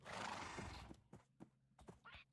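A Minecraft horse gives a loud, breathy whinny lasting about a second, followed by several short, sharp clopping or snorting bursts. No one speaks.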